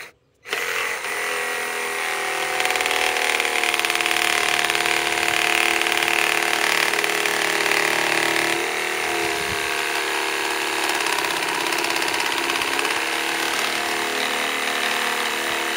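A 2-amp Ryobi or Metabo HPT corded electric jigsaw with a jigsaw blade fitted starts abruptly and then runs continuously at a loud, steady buzzing whine, close up, for about fifteen seconds.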